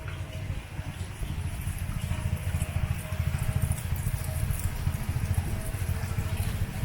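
Heavy monsoon rain pours steadily over Savdav, a village near Kankavli in the Konkan, a loud, dense wash of patter with a low rumble underneath and no voices.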